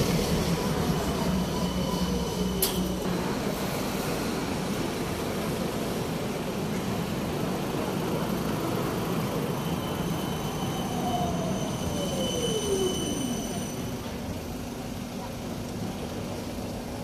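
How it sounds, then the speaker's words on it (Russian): Tram on route 17 near Dam Square in Amsterdam, rolling through the street with a steady rumble and a rising, fading wheel squeal near the end, with street ambience and faint voices around. "17 маршрут трамвая."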